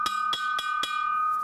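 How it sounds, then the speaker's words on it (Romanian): A well-fired clay jug by a Romanian potter is struck four times in an even rhythm, each tap giving a clear bell-like ring that sustains and fades after the last hit. "Deci așa puteți să cunoașteți un vas că e bine ars, să-l auziți că sună așa."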